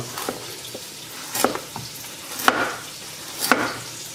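Onions and sausage frying in a pan in a home kitchen, a steady low sizzle broken by several sharp clinks and scrapes of stirring spaced about a second apart.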